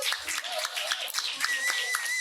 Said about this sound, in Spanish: hay que darle un aplausito, por favor